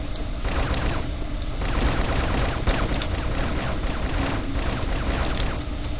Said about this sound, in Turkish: Reis arkandan vuracağım.